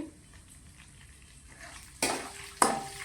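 Curry leaves dropped into hot oil while making paper avalakki, a quiet pan at first, then two sharp bursts of crackling sizzle with stirring clatter near the end.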